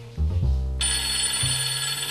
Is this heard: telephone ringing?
yes